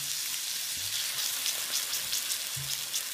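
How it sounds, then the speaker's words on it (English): A pan of shellfish ragu with heirloom tomatoes sizzles steadily as a splash of white wine goes in, a constant close hiss of frying with a few faint low bubbles and clinks beneath it. "Now I'm going to add a little bit of wine."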